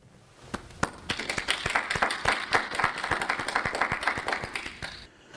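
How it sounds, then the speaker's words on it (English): A commencement audience claps for the faculty in a round of applause, a brief burst of sharp, separate handclaps that builds quickly, holds for several seconds and then fades out. "I ask that nonetheless you give them a round of applause."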